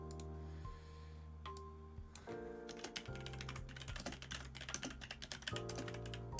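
Typing on a computer keyboard during a PC football career-mode game, bursts of quick light key clicks with brief pauses, close and faint, over a low steady background tone.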